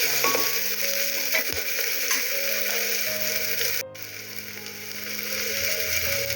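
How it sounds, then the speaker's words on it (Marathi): Spices going into a hot pan of elephant foot yam curry with tomato on low gas, a steady sizzle with some clinking and scraping throughout, close and fairly loud, with a brief dip in the middle. "गॅस बारीक करायचा आणि त्यात सगळे आता मसाले टाकू"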